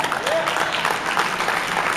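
A short burst of audience applause, steady clapping from a modest crowd lasting about two seconds with a faint voice underneath.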